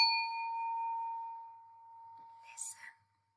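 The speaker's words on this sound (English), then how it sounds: "I'd like you to concentrate by listening to the chime" A single chime struck once rings out with a clear sustained tone that slowly fades over a few seconds, followed by a brief soft rustle or breath near the end.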